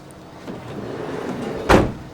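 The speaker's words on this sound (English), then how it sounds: "Shut the door then." A Vauxhall Vivaro L2 van door slides and shuts with one solid thud near the end, after a short stretch of low rumbling movement.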